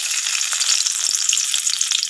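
Chopped garlic fries in oil in a wok, giving a bright, steady sizzle with small popping crackles, close and even throughout.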